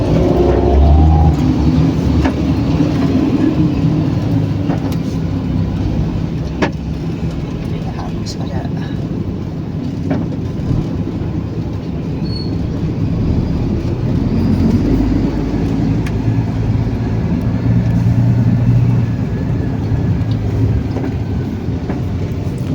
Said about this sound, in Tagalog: Grabe traffic, kabilang truck.